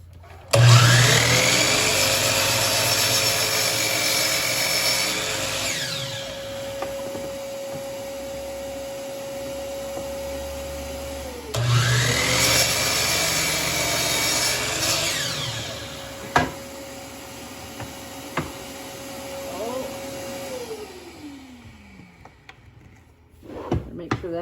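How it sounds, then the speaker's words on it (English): A chop saw spins up into a loud whine and cuts wood pieces to length, twice in a row, each cut followed by the motor winding down, with a few knocks of wood being handled between and after. "now I can cut them each to length with my chop saw"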